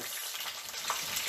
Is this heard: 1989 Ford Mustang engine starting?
no